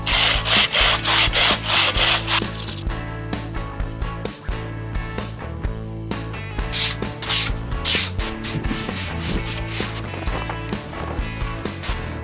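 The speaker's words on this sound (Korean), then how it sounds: "뒷면이 좀 거치니까 사포를 준비해서 좀 밀어주도록 할게요." Sandpaper rubs back and forth across the rough back of a wooden air hockey table part in steady, rhythmic strokes, close and fairly loud, continuing throughout with brief pauses between passes.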